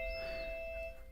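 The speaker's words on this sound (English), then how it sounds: "Just ignore that doorbell, I can get it in a second." A doorbell chimes indoors with a sustained two-tone ring that holds steady and then fades, heard alone without talk over it during a maths lesson on surds.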